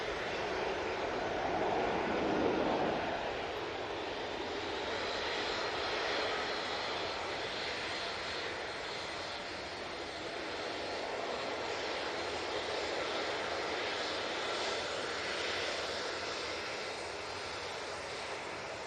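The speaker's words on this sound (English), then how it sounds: "the Aer Lingus has just arrived" Aer Lingus airliner arriving at Manchester Airport, a steady moderate jet engine rumble and hiss holding evenly throughout, with no talking.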